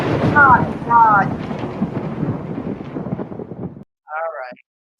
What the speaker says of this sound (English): So cheesy, that thunder noise.